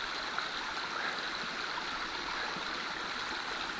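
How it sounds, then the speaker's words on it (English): A waterfall and rushing mountain stream on Yucaipa Ridge pour out a steady, dense roar that holds unbroken and close throughout, with no voices. "Figure out how to get past this waterfall."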